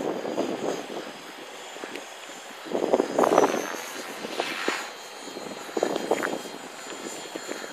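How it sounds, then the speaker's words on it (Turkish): A small radio-controlled helicopter flies a lap around an airfield, its rotor and motor whining at moderate distance, rising and fading as it passes, with no talk over it. "Bak küçük helikopter ne zamandır uçurmuyorduk."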